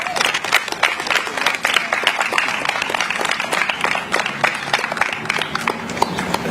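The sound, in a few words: round of applause from the audience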